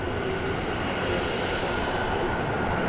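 American Airlines jet taking off at DFW Airport, a steady broadband engine roar heard at some distance, loud and continuous across the short stretch with no talking.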